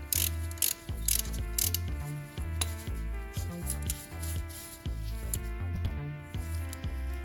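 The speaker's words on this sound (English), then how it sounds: "get you an E14 socket, looks like this right here, to be able to remove the bolt off from the pulley right there" A ratchet with an E14 socket working loose the alternator pulley bolt on a Porsche 911, giving a steady run of close, rhythmic metallic clicks as the handle swings back and forth, with small clanks between strokes.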